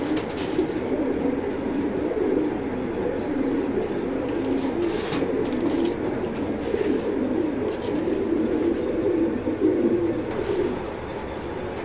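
Racer pigeons cooing steadily in a dense, continuous murmur of overlapping calls, near and moderately loud, with faint chirps above and no talking.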